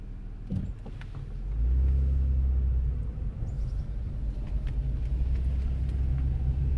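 A vehicle rolls through a state park campground, its engine rising into a steady low rumble heard from inside the cabin, with no talking.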